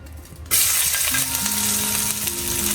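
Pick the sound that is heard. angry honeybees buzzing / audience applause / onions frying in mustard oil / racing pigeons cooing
onions frying in mustard oil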